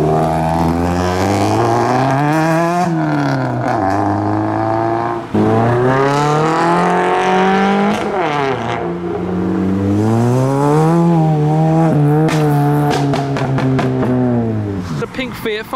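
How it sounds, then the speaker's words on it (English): A pink modified Toyota GT86 revs repeatedly in a car park, engine pitch climbing and falling in several rising sweeps, loud and close with people talking over it. "We have the pink GT86."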